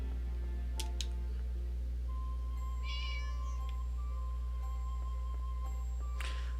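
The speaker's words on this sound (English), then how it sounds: "Let me go pet this cat." A cat in the Harvest Moon: Light of Hope video game gives a short meow when petted, heard over a steady game music background with faint ticking.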